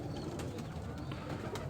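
Pigeons cooing in a loft, low soft throaty calls blending into a dense murmur of birds nearby, with no talking over them.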